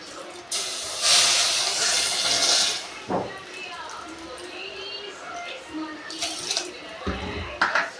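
Water poured into a pan of sugar while making syrup for instant gulab jamun: a close, hissing splash of pouring for a couple of seconds, then quieter kitchen handling sounds and brief clatters.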